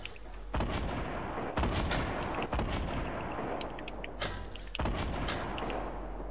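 Gunfire and grenade launcher shots in Fortnite, a run of loud, sharp booming blasts spaced irregularly about a second or more apart over a constant low rumble, close and punchy, with no talk.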